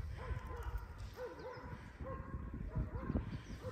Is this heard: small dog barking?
yes